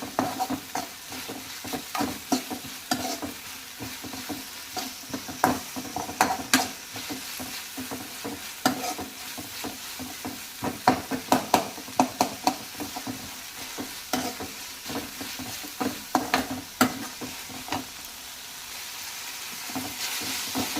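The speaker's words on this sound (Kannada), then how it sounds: "ನೋಡಿ ಟೊಮೊಟೊ ಈರುಳ್ಳಿ ಫ್ರೈ ಆಗ್ತಾಯಿದೆ." Tomato and onion frying in a pan for bisi bele bath give a continuous nearby sizzle, with frequent spatula taps and scraping strokes coming in bursts throughout.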